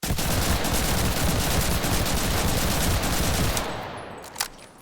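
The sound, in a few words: Sten submachine gun firing in Enlisted video game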